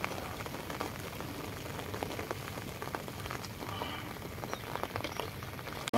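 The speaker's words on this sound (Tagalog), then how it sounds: "lumakas ang ulan" Heavy, steady rain pours down without pause, a dense hiss of drops hammering a surface, with no voices.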